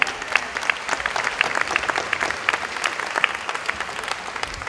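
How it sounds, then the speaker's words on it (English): Applause for school staff at a district opening-day gathering, a dense patter of many hands clapping steadily for several seconds, loud and close, with no talk over it. "Applause for you, the staff that makes things happen every day."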